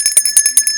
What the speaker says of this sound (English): This is a bit of a tinny bell, okay?